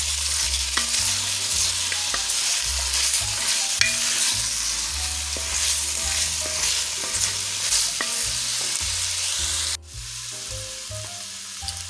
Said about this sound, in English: my carrots, and my celery. And I'm going to let that saute for 5 to 7